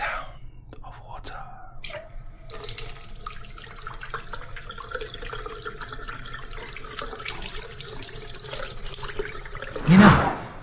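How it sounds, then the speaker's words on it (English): Water runs from a tap into a sink with a continuous hissing splash that starts after a couple of seconds and keeps going. Soft voices murmur and whisper underneath, and a louder burst comes near the end. "The sound of water."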